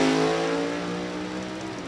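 A top sportsman drag race car roars down the strip, a loud sustained engine howl that fades slightly as it accelerates away, no voices.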